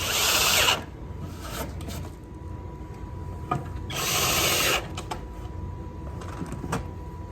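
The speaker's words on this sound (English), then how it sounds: "We're gonna pre-drill the ash because ash tends to crack if you don't pre-drill it." A power drill whines loudly in two bursts, spinning up and pre-drilling into ash wood, with quieter scraping and handling noises between them.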